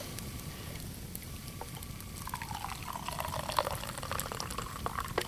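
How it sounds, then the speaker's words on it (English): Pine needle tea is poured from a military nesting cup with a vented lid into a cup, a steady close trickle whose pitch rises as the vessel fills. "let's go ahead and pour this off here"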